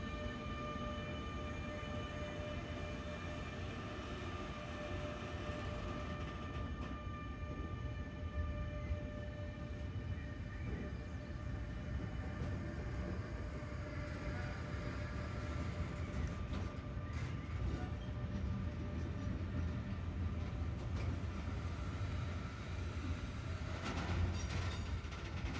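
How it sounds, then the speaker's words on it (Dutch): Two Railpool class 186 electric locomotives haul a freight train of new dark blue wagons through the Alps, a steady, moderately distant rumble and hum that continues evenly throughout without voices. "De 186-285 en de 186-288 van Railpool in dienst van Rail Traction Company uit Bolzano."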